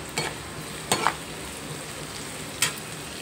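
Onions and curry leaves sizzle softly in a pan, a steady quiet fry broken by three brief stirring scrapes, with no talking.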